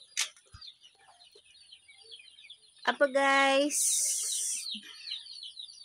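Native chicks and hens chirp and cluck steadily on a farm, with a louder drawn-out fowl call partway through and someone speaking briefly at the start.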